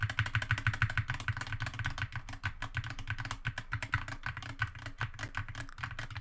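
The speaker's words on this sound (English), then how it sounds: "Here is the mechanical keyboard test as well. So if I just spam some keys." Rapid, clattering keystrokes on a mechanical keyboard, loud and close, tapping in a fast uneven stream without pause.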